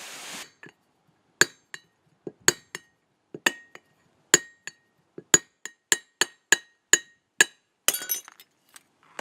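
Sharp glass clinks ring out one at a time as a broken and reglued glass candy jar is tapped to chip it, about a dozen close, separate taps in an uneven rhythm, with a brief rustle at the start and the end.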